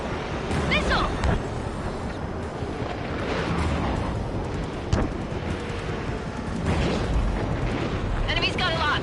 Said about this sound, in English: Strider 3, missile in the air!